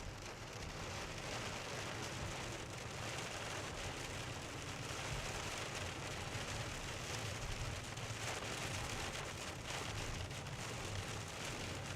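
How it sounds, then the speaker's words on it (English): Rain pours onto a storm chaser's vehicle during a Michigan severe-weather chase, a dense, steady patter drumming on the roof, constant and close for the whole stretch with no voices. "We gotta get out of this rain."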